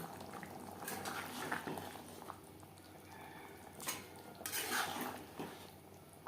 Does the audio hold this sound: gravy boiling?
yes